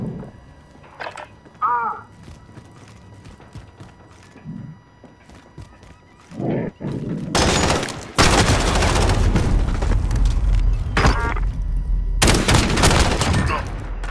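Fortnite gunfight with bursts of rapid gunfire, loud and dense in two long stretches, after quieter scattered shots and brief voice sounds.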